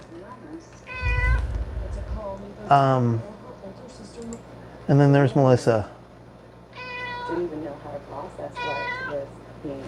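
A house cat meows several times, drawn-out vocal cries spaced through the stretch, close and fairly loud, with a person speaking between and around the meows.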